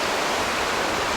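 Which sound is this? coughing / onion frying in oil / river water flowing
river water flowing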